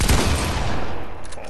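In the Fortnite video game, a rapid burst of gunfire opens with loud cracks, then fades into a dense rattling tail over about a second and a half.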